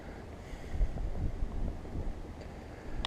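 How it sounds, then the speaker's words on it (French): Outdoors while lure fishing for perch, gusty wind buffets the microphone in a low, uneven rumble, fairly faint and alone without talk. "Le vent se lève"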